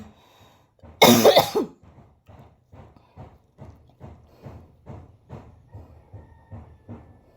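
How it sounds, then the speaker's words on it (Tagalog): A single loud, harsh cough bursts out near the start, followed by a series of softer, rhythmic thumping sounds and quiet breathing sounds, with no speech. "Inuubo ako guys."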